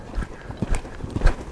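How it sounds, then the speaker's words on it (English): Hoofbeats from a horse moving at a counter canter, a run of soft, uneven thuds in a loose rolling rhythm, fairly close, with no talk over them. "I'm counter cantering."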